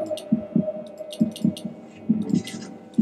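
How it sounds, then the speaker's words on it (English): A heartbeat in a Halloween flash video game thumps as steady, close lub-dub pairs, roughly one pair each second, with a faint hum underneath. "Listen to a heartbeat."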